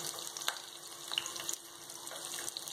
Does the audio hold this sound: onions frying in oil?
yes